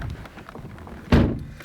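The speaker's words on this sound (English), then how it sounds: "Definitely a solid door, I'll say that." A Volvo car door swings shut with one solid, heavy thunk just past the middle, after a short stretch of quiet handling noises.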